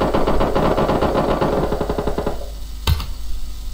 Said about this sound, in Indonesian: Balas membalas tembakan sangat ramai di sini.